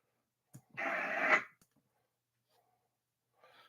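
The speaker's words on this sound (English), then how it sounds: "So then you can stop the talky part, and then you just get white noise." A short burst of hissing radio static, under a second long, set apart by faint clicks and quiet gaps.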